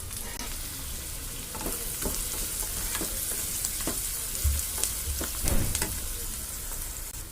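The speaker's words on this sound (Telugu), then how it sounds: "ఇందులో పచ్చిమిర్చి ఉల్లిపాయలు కరివేపాకు వేసుకున్నాను ఒక వీటిని బాగా ఫ్రై చేసుకోవాలి" Green chillies, onions and curry leaves fry in hot oil in a pan, giving a steady close sizzle with scattered crackles and pops throughout and no talking.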